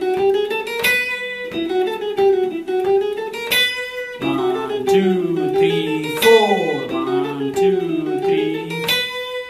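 A short melodic phrase in running sixteenth notes, part of a lesson on chromatic phrasing, played as a steady stream of quick, clearly separated pitched notes with no talking.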